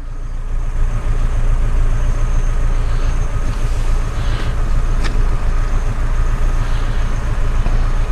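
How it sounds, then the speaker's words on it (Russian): A Nissan Patrol 4x4 churns through heavy wet snow, its engine droning steadily and loud from start to finish, with a faint higher whine and brief scrapes layered over the low rumble. "Первый патрол движется. Снег мокрый, очень и очень тяжело, в принципе, двигаться."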